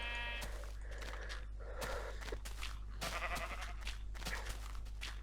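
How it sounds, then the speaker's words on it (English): Sheep in Minecraft bleat over a steady low hum at night, with short harmonic bleats at the start and again near the middle, mixed with soft blocky footsteps, fairly close and moderately loud. "Usually you don't really see that many sheep at night, spawning at night usually."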